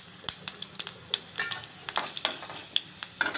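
Chana dal and urad dal fry in hot oil with mustard and cumin seeds. Sharp crackles and pops burst irregularly over a steady, close sizzle while a utensil stirs.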